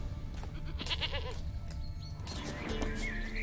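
A goat in The Witcher 3 video game bleats a few times amid steady game ambience and a low hum, wavering calls mid-level in the mix.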